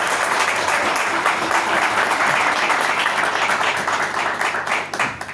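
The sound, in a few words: congregation applauding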